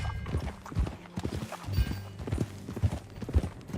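Horse hooves clip-clop in a steady walking rhythm in Red Dead Redemption 2, soft and slightly distant with a faint background hum.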